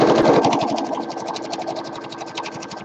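A sewing machine runs continuously while stitching an apron, a close, fast, even chatter of needle strokes that fades slightly toward the end.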